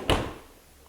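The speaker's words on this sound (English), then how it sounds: "and now the drawer will slide freely" A refrigerator freezer drawer slides on its rails in one quick, close scraping swoosh that fades out within half a second, with no talking.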